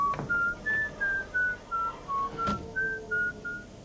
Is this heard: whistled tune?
yes